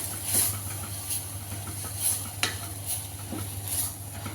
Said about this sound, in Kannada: ಇಷ್ಟನ್ನು ಚೆನ್ನಾಗಿ ಮಿಕ್ಸ್ ಮಾಡ್ಕೋತೀನಿ